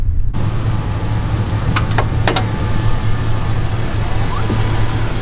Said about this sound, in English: It's a cold air intake, and it actually sounds pretty cool